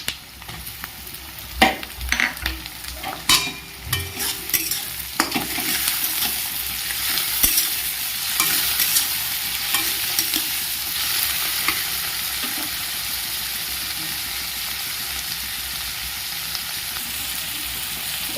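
Chopped tomatoes, added to a pan with garlic for a spicy chicken pasta, hiss and sizzle steadily while a utensil stirs and scrapes, with clattering strokes early on settling into continuous close frying.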